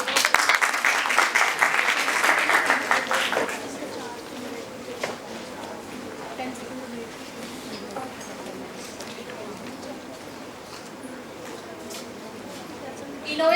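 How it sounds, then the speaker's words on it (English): A short burst of applause from a crowd fades after a few seconds into quieter room noise with faint movement. "let's give a big round of applause for Prerna with tag number 7."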